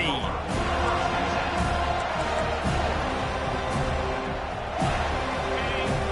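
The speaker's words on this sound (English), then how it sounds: "This crowd bringing an ear-splitting welcome to their visitors." A packed stadium crowd at a college football game between Florida State and Alabama roars in a dense, continuous wash of cheering and yelling that stays loud throughout, with scattered shouts rising above it.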